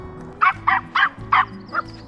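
Puppies give five short, high, yappy barks in an uneven rhythm, close by, over a low background hum.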